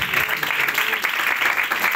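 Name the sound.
congregation applauding in church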